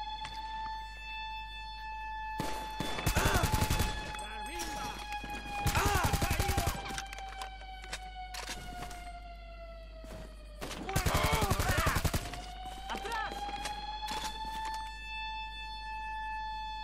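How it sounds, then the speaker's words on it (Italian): Gunfire in GTA 5 during the Cayo Perico heist comes as three loud bursts of rapid automatic shots, spaced several seconds apart, while a wailing siren holds steady underneath the entire time. "Sparo in aria."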